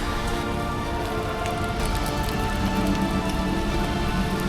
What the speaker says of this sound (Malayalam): നല്ല മഴ കേട്ടോ, ഒരു രക്ഷയില്ല.